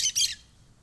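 Parakeets chirping nearby, two quick shrill squawking calls in close succession that fade out, with no talking.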